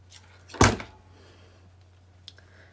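Scissors make a single quick snip through fluffy sherpa fabric, close by, followed by quiet with a low background hum and a faint tap near the end.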